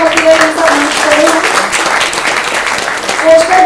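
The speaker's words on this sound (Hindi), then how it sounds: "जोरदार तालियां होती है।" Loud applause from a theatre audience during the credits of a stage play, steady clapping mixed with voices and faint tones.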